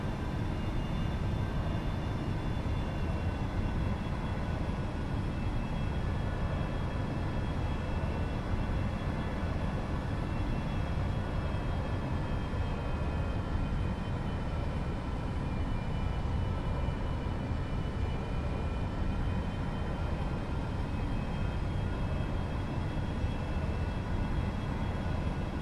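A Boeing 747 in the X-Plane 11 simulator, flying from Gatwick to Manchester, gives off a constant broadband jet roar with a faint high whine, steady and unbroken for the whole stretch.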